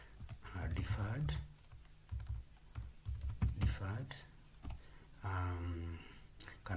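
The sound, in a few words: typing on a computer keyboard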